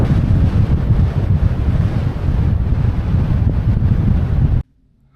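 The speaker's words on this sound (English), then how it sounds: "I got a pretty bad headwind" Strong headwind roars across the microphone while cycling through Kansas, a loud, continuous buffeting rush that cuts off abruptly near the end into silence.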